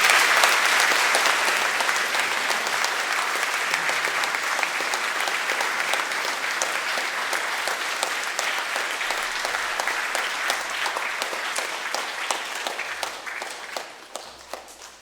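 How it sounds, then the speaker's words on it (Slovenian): Sustained applause from a parish gathering in Poljane, many hands clapping in a dense, even patter for a long stretch, gradually tapering toward the end. "dajmo mu še en aplavz, kot se spodobi"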